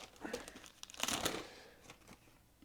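A small plastic baggie of car parts being opened and handled, soft crinkling and rustling close by with a brief louder burst of crumpling midway, then fading.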